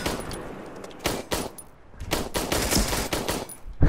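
Video game gunfire: several sharp bursts of shots, some close together like rapid automatic fire, separated by short gaps and ending on a final loud shot.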